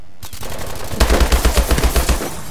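Automatic-weapon fire in the video game Call of Duty: Advanced Warfare, a quick burst of about eight or nine close, punchy shots in a steady rhythm after a brief quiet start.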